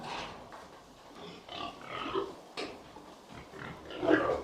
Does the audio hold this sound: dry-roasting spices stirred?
no